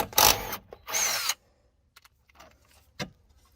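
An impact driver fitted with a 7mm socket backs out the bolts on a Jeep Wrangler fog light housing in two loud, close bursts, followed by quieter clicks and a sharp knock.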